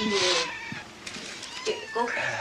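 A kitten meows a few times, high and near, while a person speaks briefly over it.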